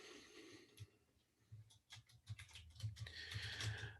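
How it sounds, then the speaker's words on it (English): Fast clicking keystrokes on a loud mechanical computer keyboard during a live stream, bursts of typing that grow denser and louder toward the end, with no talking. "Mechanical keyboard. That's probably why it's so loud."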